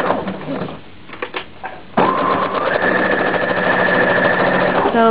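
A sewing machine stitches a Hong Kong seam in a home craft room, starting after a quiet pause with a steady, close, continuous whirring hum that holds for about three seconds.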